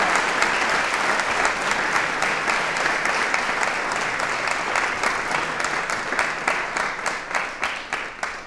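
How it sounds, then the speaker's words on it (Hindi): An audience at a quiz show on elections claps loudly and continuously, the dense applause turning into slower, rhythmic claps as it tapers off near the end. "तालियां बजाइए साहब।"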